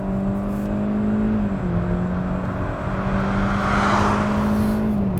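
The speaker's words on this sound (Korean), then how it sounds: "현재처럼 가속 페달을 밟고 유지하고 있는 상태에서 RPM이 상당히 높게 유지되는 모습을 볼 수 있는데요" A 2019 Hyundai Avante with a Smartstream 1.6 engine accelerates hard, its engine holding a high, steady, droning rev with a brief dip as a gear changes, heard from inside the car with road noise underneath.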